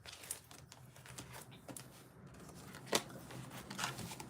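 A deck of cards is shuffled during a tarot-style reading, faint soft riffles and slides with a few sharper snaps over a quiet room background, no one speaking.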